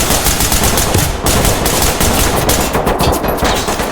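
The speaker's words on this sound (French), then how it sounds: "J'ai très bien tiré là." Loud, sustained automatic gunfire from the tactical shooter Ready Or Not rattles in rapid continuous bursts for several seconds, dense and close with only brief breaks.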